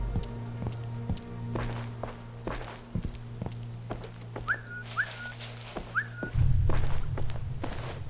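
In the stealth video game Velvet Assassin, a character's footsteps thud along before three short, rising whistle chirps sound in quick succession, followed by a louder low hum.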